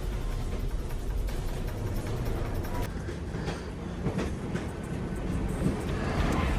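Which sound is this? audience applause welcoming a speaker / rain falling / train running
train running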